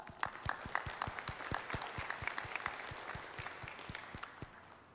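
A small audience claps at a talk on gathering requirements for dashboards, with distinct, sparse hand claps in an irregular rhythm, fairly quiet and unaccompanied by voices.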